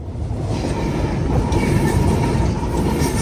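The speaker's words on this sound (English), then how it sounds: "Norfolk Southern Intermodal Train number 204 bound for Rutherford, Pennsylvania" A long Norfolk Southern intermodal freight train with a mid-train engine rolls steadily past close by in Greenville, South Carolina, a dense rumble with faint metallic wheel clatter and hiss throughout, no voices.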